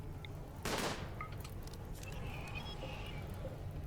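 Colonists in Rimworld fire guns, a faint rattle of scattered shots under steady game background noise, with one sharper louder burst near the start.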